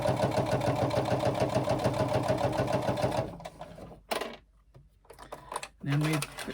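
A sewing machine runs steadily along a quarter-inch seam on a laptop bag, loud and close for about three seconds, then cuts off, with quiet handling noises and a few brief spoken words afterward.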